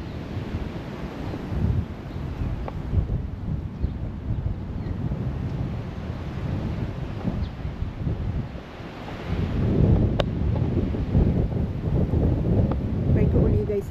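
Steady, heavy wind buffeting a GoPro microphone on a blustery outdoor walk, a low broadband roar that rumbles continuously and swells louder in the last few seconds, with no clear voices.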